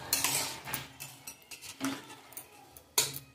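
Fried fish being stirred into a radish curry in a metal pot, with a spoon scraping and clinking against the pot in irregular bursts, close and moderately loud, with no talk.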